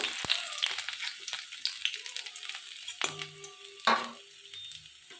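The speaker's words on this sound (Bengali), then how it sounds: "কড়ার মধ্যে আমি সর্ষের তেল দিয়ে দিয়েছি দেখুন তেলটা আমার গরম হয়ে গেছে আমি এবারে আদা কুঁচিগুলো দিয়ে দিলাম তেলের মধ্যে" Chopped ginger fries in hot mustard oil in a wok, giving a soft, fairly quiet sizzle punctuated by a few sharp clinks and scrapes of a spatula against the metal.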